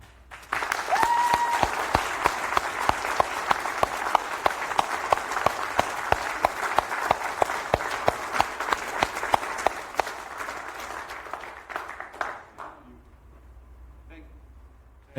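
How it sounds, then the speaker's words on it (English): Audience applause at a DebConf session, a broad wash of clapping lasting around twelve seconds, steady and full before tapering off into quiet. "So I would like you all for a big applause for the people who wanted to host the DebConf"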